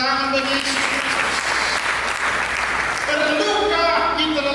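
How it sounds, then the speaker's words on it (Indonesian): A church congregation claps during a sermon, loud continuous applause blended with sustained voices or music throughout, a full and dense sound lasting several seconds. "Mari kita berikan tepuk tangan bagi Yesus Kristus."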